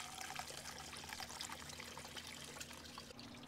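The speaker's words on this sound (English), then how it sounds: "because it lets me pour it right in." Vinegar pours steadily in a thin stream into a seized Honda CB160 motorcycle engine, a quiet continuous trickle and splash with no talking.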